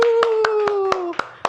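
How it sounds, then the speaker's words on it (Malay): Young pupils clapping their hands in an online maths class, about seven sharp claps in a fairly steady rhythm, heard over a sustained electronic tone that slowly falls in pitch. "Semua orang tepuk tangan."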